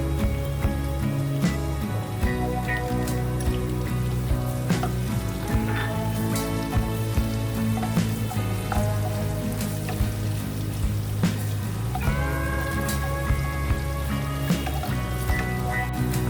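Chopped ginger and garlic fry in oil over a lowered gas flame while being stirred, giving a continuous close sizzle and crackle with occasional clinks and scrapes of the utensil.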